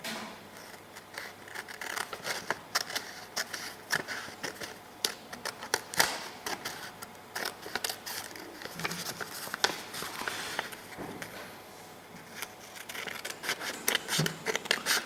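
Scissors snip through paper while a drawn cube is cut out, a dense run of sharp crisp clicks and rustles, close and fairly steady, with no talk.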